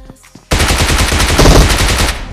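Automatic gunfire in the PUBG Mobile video game erupts as a loud, rapid burst after a brief quiet start and continues steadily to the end, with no speech.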